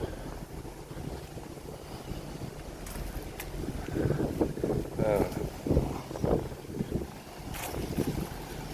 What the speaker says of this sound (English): I got a bit of wind, eh?